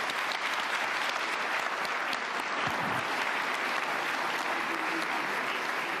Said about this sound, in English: let's give a huge round of applause to our panel.